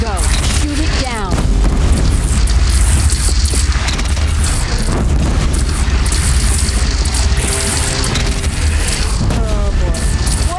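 A bridge in the Horizon Zero Dawn video game collapses after being shot down, giving a loud, sustained rumbling crash with booming explosions and crumbling debris, while voices and game music sound over the din.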